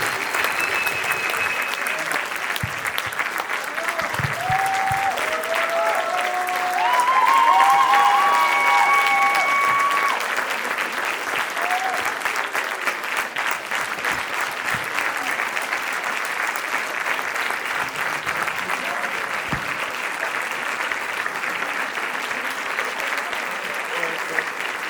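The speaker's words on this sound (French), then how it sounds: "On peut les applaudir." Sustained audience applause at a film festival discussion in Montreal, dense steady clapping that carries on for the full stretch, briefly swelling with cheers, while a voice speaks faintly over it.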